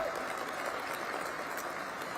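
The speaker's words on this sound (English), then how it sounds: "Please give the chairman a round of applause." Audience applause for a city council chairman at a public education fund awards event, a steady, fairly faint wash of clapping lasting a couple of seconds.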